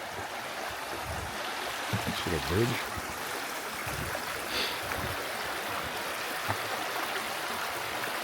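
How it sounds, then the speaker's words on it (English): Tom's Run, a stream beside the Appalachian Trail near Pine Grove Furnace, keeps up a steady low wash of flowing water throughout, with a voice speaking briefly over it. "here's the refreshing sound of Tom's Run"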